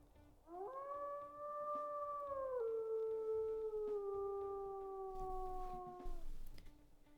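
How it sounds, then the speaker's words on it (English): A long, clear wolf howl from the WolfQuest video game, using the classic original howl of the earliest version: one sustained, smoothly sliding call that drops slightly partway through, with no talking. "he got that really classic original howl from the very old, very first version of WolfQuest"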